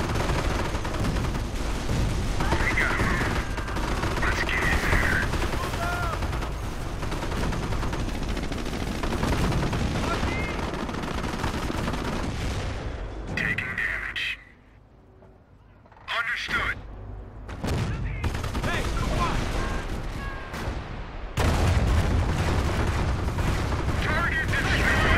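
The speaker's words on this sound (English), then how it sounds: "Engineer squad under fire!" Sustained gunfire and machine-gun bursts in the Company of Heroes strategy game, dense crackling shots and booms rolling continuously, briefly dropping away before resuming, with voices calling out over the battle.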